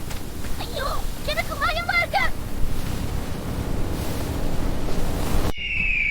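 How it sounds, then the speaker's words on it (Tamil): Strong, steady wind roaring through a stormy scene in a Tamil cartoon story, a continuous broadband rush with surf-like swells, while a voice speaks briefly over it near the start. "வானம் கருமையா மாறி காற்று வேகமா அடிக்க ஆரம்பிச்சது"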